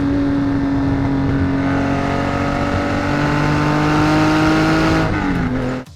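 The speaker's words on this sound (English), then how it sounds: "the famous sound of the flat six in the back of the" A Singer-reimagined Porsche 911 built from a Type 964, its rear-mounted flat-six engine droning loud and steady with a rising tone under acceleration before it cuts away at the end.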